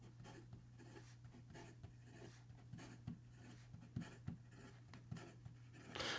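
Kilk Camera Laterna fountain pen nib scratching quickly across paper, soft and close, with rhythmic strokes over a steady low hum.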